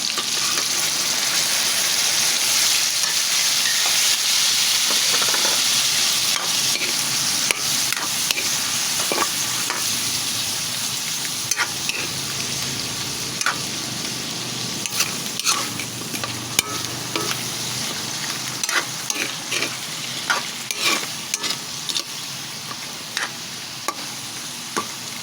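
Liver frying in a pan, loud continuous sizzling with frequent clinks and scrapes of a spatula stirring, close and without talk.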